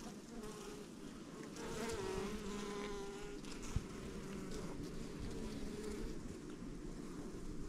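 Bees crowd on honey frames in an apiary, making a steady close buzzing hum with no talk over it.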